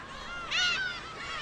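Black-tailed gulls call at their nesting colony on Dokdo, a burst of harsh, honking cries rising briefly over a steady background of colony noise, with no talk.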